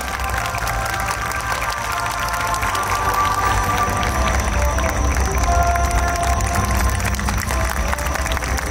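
A large crowd at an award ceremony of the Koiya Festival 2022 claps steadily, a dense sustained patter of applause that continues without pause.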